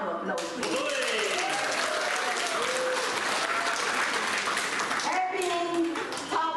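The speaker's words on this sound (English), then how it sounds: "A round of applause, please." Applause from a gala audience at a Philippine Independence Day celebration: sustained clapping from the crowd, with a voice speaking over it and a brief dip before it swells again.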